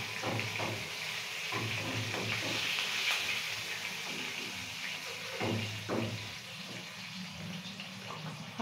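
Chopped green chillies frying in hot tempering oil for egg and poppyseed paste, a steady close sizzle with faint watery crackle and a few soft utensil knocks, no talking.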